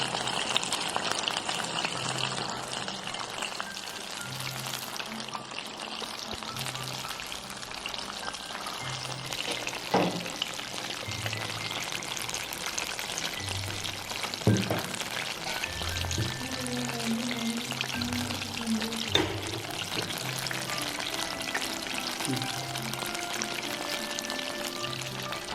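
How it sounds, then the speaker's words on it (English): KFC-style chicken deep frying in oil in a pan over a medium flame, a loud, continuous bubbling sizzle with occasional sharper crackles and pops throughout. "Fry it in medium flame."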